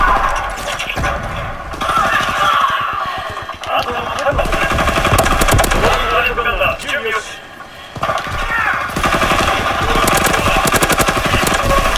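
MG81 machine gun fire in Call of Duty WWII on PS4, loud rapid bursts of rattling shots broken by brief pauses, with mechanical clatter between volleys and someone talking intermittently over the action.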